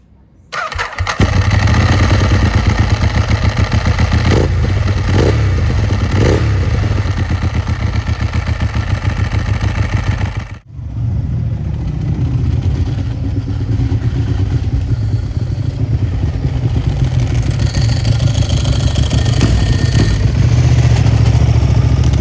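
A Ducati 1198 SP sport motorcycle engine fires up and settles into a loud, steady idle, cuts out briefly midway, then restarts and keeps idling with a throaty rumble.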